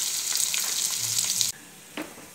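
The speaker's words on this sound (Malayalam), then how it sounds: "നമുക്ക് ഉള്ളി ചേർത്ത് മൂപ്പിക്കാം." Onions fry in hot oil for a Kerala jackfruit seed and mango curry, giving a bright, steady sizzle for about a second and a half that then cuts off, followed by a single soft clink.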